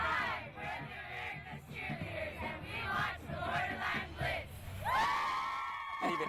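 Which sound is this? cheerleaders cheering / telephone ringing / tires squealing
cheerleaders cheering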